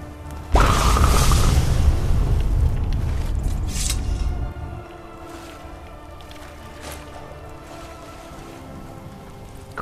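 An explosion in the video game Skyrim: a loud, deep blast bursts in, followed by a few seconds of rumbling debris before settling into a quieter low ambient hum.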